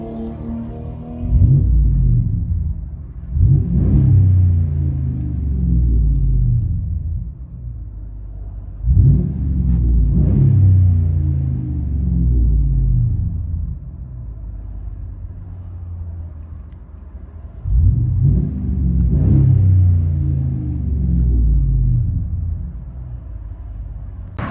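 A 2018 RAM 1500 with the 5.7L Hemi V8, true dual 2.5-inch exhaust, Carven mufflers and an X-pipe, heard from inside the cab as a deep rumble swelling in three repeated revs, then settling back to idle.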